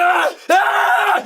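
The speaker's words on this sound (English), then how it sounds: "Oh crap, we have fire screams." A voice actor screams as Blackbeard burning in Saints Row, two loud strained cries back to back, the first breaking off and the second sustained before fading.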